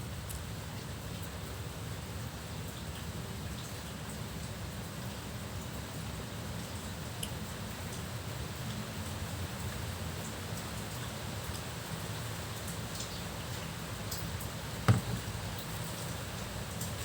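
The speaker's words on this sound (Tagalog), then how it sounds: "Paparating na ulan." Soft, steady hiss of rain falling, a constant wash of patter with one brief faint knock near the end.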